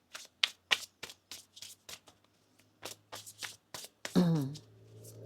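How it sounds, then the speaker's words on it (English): Tarot cards are shuffled close up in a quick series of crisp riffling bursts, followed by a short stretch of a voice speaking. "One more shuffle here."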